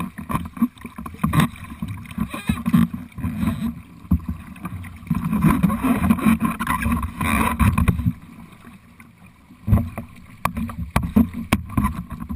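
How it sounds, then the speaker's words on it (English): Paddles dipping and splashing rhythmically as a boat is paddled into an eddy on a river bend, close and steady over running water, with wind buffeting the microphone. "So kind of paddle us into that eddy line where Frank."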